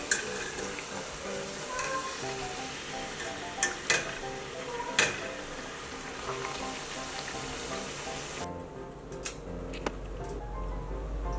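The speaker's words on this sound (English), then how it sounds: "Make a hole, then deep fry in oil. Fry until they are a nice golden brown color." Bottle gourd and rice flour crispies deep frying in hot oil make a constant loud sizzle with scattered sharp pops and crackles, easing quieter near the end.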